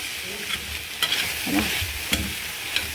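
Food fries in a pan with a continuous close sizzle, broken by several sharp clinks and scrapes of stirring at irregular intervals, with no talking.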